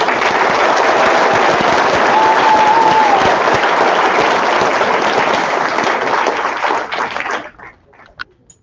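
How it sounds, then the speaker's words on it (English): Loud, sustained applause from the audience at a 5th grade graduation, a dense roar of clapping lasting about seven seconds before it abruptly dies away to a few scattered claps. "So give them a round of applause."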